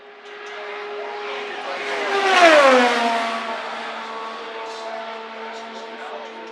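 IndyCar race car on a qualifying lap at the Indianapolis 500 Bump Day, a high-pitched engine whine rising as it approaches, peaking loudly and dropping in pitch as it passes by, then fading into distant crowd noise.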